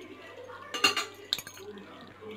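Kurma curry transferred into another cooking pot in a home kitchen gives a few close metallic clinks and scrapes of a spoon against the vessels, two brief clusters over a low background hum.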